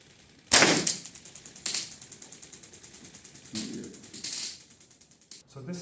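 A police taser fires with a loud crackling bang, followed by a fast ticking pulse train that rises and falls over several seconds, with further sharp bursts later, fairly close and without speech.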